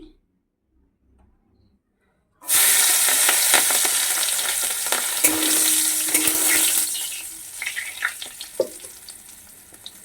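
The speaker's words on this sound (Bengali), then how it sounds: "দেখো তেলটা গরম হয়ে গেছে আমি প্রথমে কয়েক টুকরো গোটা রসুন দিয়ে দিচ্ছি" Whole garlic cloves hit hot oil with a sudden loud burst of sizzling after a quiet start, a dense crackling fry that stays steady, then eases slightly with scattered pops and ticks toward the end.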